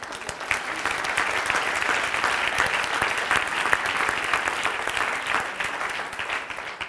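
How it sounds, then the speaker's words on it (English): A group in a spiritual psychology class applauds after someone shares, with even, sustained clapping from a roomful of people continuing throughout at moderate volume. "we clap at USM whenever anyone shares"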